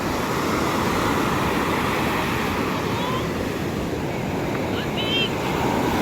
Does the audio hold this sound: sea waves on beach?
yes